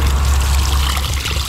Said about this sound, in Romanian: Vreau să spăl un pic și Insta360-ul, ia uitați apa